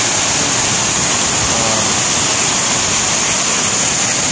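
Waterfall at Cughup Buluh in Gumay Ulu, Lahat, a steady loud roar of falling water that fills the whole clip as a constant hiss with no voices heard.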